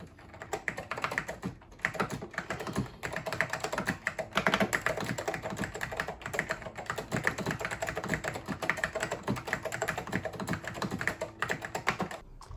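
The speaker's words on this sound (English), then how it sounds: "This is the Apple Extended Keyboard." Steady, fast typing on a clacky vintage Apple Extended Keyboard, about 30 years old, keys striking in a continuous rapid rhythm, close up with no voices.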